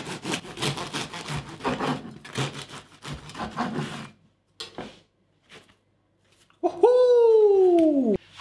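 Rough, rhythmic sawing strokes of a knife through a crusty loaf, a dozen or so crunchy passes, followed by a short high squeal near the end.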